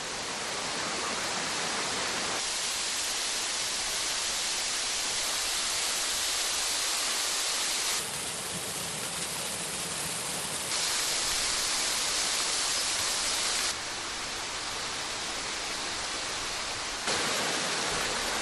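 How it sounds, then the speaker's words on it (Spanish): Steady rushing roar of a waterfall feeding the Asón river valley, broad and constant, loud and continuous with no voices. "una cascada en el denominado culo de saco del valle ha sido capaz de incrementar el caudal del río Asón"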